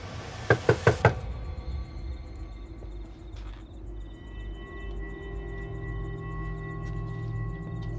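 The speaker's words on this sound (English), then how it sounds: "As I'm knocking and he's not answering, I become extremely nervous." Three quick, sharp knocks on a door land close together near the start, then only a quiet room hum with a faint steady tone.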